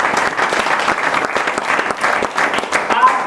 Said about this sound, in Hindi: जोरदार पहले तालियां बजा लो फिर बता दो